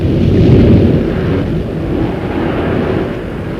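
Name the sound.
radio drama sound effect of stormy sea and wind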